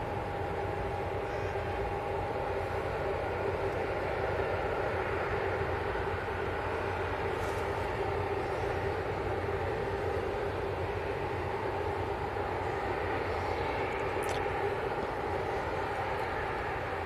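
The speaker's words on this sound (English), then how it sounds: "So we've got this little Embraer in from Helsinki." A small Embraer jet arriving from Helsinki at Manchester Airport gives a continuous distant engine drone with a faint steady whine, with no talk over it.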